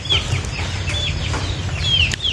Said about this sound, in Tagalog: Ang ating mga alagang manok.